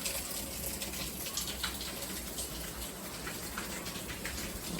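Surface water runoff from a road drains through an open pipe at an abandoned mill over 200 years old, a steady, continuous splashing trickle close by that runs unbroken with no talk.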